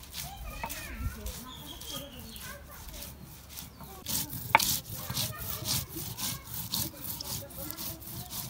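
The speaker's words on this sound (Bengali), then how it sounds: "আদা রসুন পেঁয়াজ শিলপাটার মধ্যে বাইটা নেব।" Ginger, garlic and onion ground by hand on a stone shil-pata slab make steady, rhythmic scraping strokes, close and fairly loud, while chickens cluck and faint voices drift in from the background.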